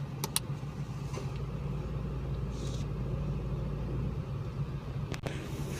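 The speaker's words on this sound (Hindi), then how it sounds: "ये हमने गाड़ी स्टार्ट कर ली है।" A Nissan Magnite CVT idles in park just after starting, a steady low engine hum running evenly throughout with a few faint clicks and rattles inside the cabin.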